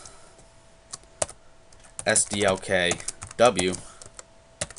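Rapid keystrokes on a computer keyboard while typing C++ code, close and crisp, arriving in short bursts between stretches of someone talking over them.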